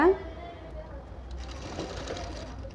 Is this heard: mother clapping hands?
no